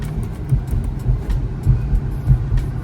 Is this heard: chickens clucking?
no